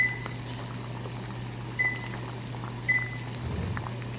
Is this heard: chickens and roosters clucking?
no